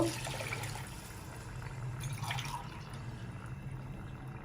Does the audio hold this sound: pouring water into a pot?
yes